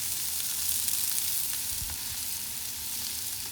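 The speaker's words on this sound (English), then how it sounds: "Throw these onions on here. I'm just going to hit the onions with a little bit of oil." Onions frying in oil on a Blackstone griddle, a steady close hiss and sizzle that runs unbroken with no talking.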